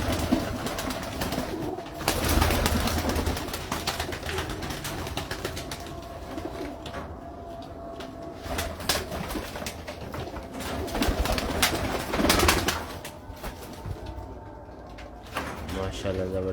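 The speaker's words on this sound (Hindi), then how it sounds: "माशाल्लाह ज़बरदस्त कबूतर हैं जी।" Pigeons cooing on a Lahore rooftop among a fancier's breeding pairs, soft repeated coos running under steady background noise and someone talking throughout, with occasional knocks and clatter.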